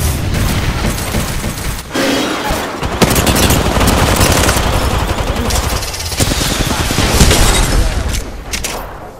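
Sustained automatic gunfire in the battle-royale shooter Apex Legends, loud and nearly continuous for about nine seconds, with bursts and impact booms layered in a dense firefight.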